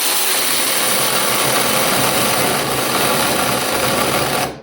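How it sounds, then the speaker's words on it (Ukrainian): A cheap 48-volt cordless saw runs loud and continuous with a harsh, buzzing motor whine for several seconds, then cuts off abruptly at the end. "А ви кажете, Петрович, як така пила буде працювати?"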